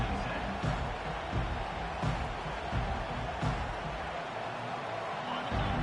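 A college football stadium crowd keeps up a loud, sustained roar with bursts of cheering, heard at a distance under a commentator's talk.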